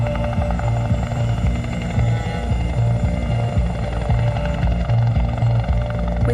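A helicopter flies in a documentary about logging in Tasmania's forests. The rotor throbs heavily and steadily with a low rhythmic chop, loud and continuous throughout.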